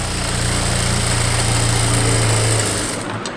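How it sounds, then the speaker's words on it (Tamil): Loud, steady whirring hum of a sewing machine stitching a straight seam on blouse fabric, running continuously for about three seconds before slowing to a stop, with no voices. "நாளையும் கொடுத்து ஸ்ட்ரைட்டாக ஒரு தையல் போட்டு வரேன்"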